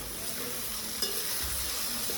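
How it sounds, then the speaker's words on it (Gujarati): Dhokla pieces being stirred in a pot of boiling water, a soft continuous bubbling and sizzling hiss with a faint scrape of the spoon near the middle. "આપણું પાણી ઉકળી ગયું છે અને એમાં આપણે ઢોકળા નાખી દીધા છે. હવે એને હલાવી લઈએ"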